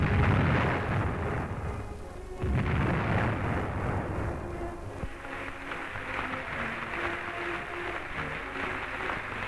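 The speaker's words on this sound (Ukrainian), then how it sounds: "Повітря стрясають залпи салюту нації." Deep booming blasts of an artillery salute for Ethiopian Emperor Haile Selassie I in Soviet Ukraine, 1959, roll out, one heavy report followed by rumbling echoes and lingering low thunder, heard from a distance.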